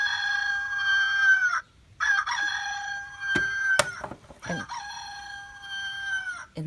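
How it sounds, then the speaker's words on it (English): A rooster crows loudly several times in long, strained calls, with brief gaps and some clucking from chickens in between. "One more time, little rooster and chickens."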